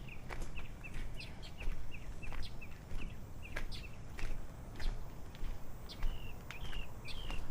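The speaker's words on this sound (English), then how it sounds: "you can hear those seagulls coming in" Seagulls calling outdoors at Piripiri Caves in New Zealand, a series of short repeated cries scattered across the stretch at moderate distance, heard over steady wind and ambient noise.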